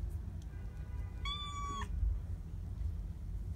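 A kitten lets out one short, clear meow at close range, standing alone against a low background rumble.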